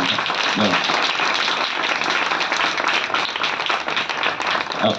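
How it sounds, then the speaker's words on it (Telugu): A church audience at an anniversary felicitation program claps loudly, producing a dense, sustained round of applause that runs unbroken for about five seconds. "గట్టిగా చప్పట్లు కొడతాం."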